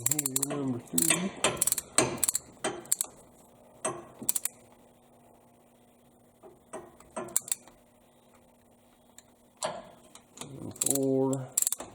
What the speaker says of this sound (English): This is a cheapy torque wrench, but it's pretty accurate